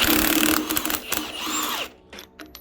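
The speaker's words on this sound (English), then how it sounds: "you take your old Milwaukee impact and you just crackety-rackety and it's off" Milwaukee impact wrench spinning off a crank bolt on a Toyota 2JZ-GE engine, a loud rattling mechanical burst for about two seconds that cuts off abruptly, followed by a few faint clicks.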